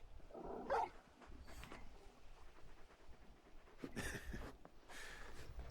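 Torgal, the large dog in Final Fantasy XVI, gives soft whimpers and yips in a couple of short bursts, faint and close, with quiet gaps between them.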